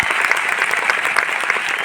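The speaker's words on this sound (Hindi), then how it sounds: "एक बार हमारे मैनेजमेंट के लिए तालियां बजा दो भाई" A seminar audience applauds steadily, many hands clapping in a continuous, fairly loud wash that continues throughout.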